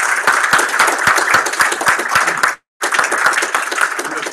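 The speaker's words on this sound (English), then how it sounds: "Round of applause for everybody." An audience at a game studio build review claps in a dense, lively round of applause, with a brief cut to silence midway before the clapping resumes.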